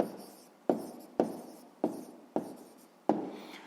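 Pen strokes on paper during a sixth-grade maths exercise, as several short scratching bursts each start sharply and fade, spaced roughly evenly, close and fairly quiet with no voices.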